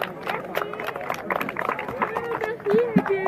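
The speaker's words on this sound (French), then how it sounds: "Merci, on peut l'applaudir" Audience clapping at a football club's 80th-anniversary ceremony in a French commune hall, a scattered round of applause mixed with crowd chatter, moderately close.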